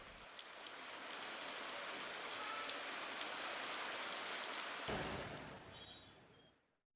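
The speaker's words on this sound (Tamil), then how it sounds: "இன்று குளிர்ந்த காற்றுடன் பலத்த மழை பெய்தது." Heavy rain pouring steadily onto surfaces with cold wind, a dense continuous hiss that holds loud for most of the span before fading away at the end.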